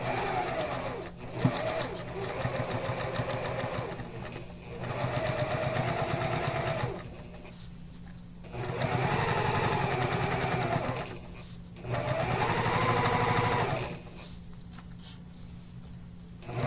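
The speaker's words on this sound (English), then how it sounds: "we're going to sew the zipper onto this other side" A sewing machine stitches a zipper onto a fabric bag in four steady whirring runs of a few seconds each, split by brief pauses with a quiet hum, close by.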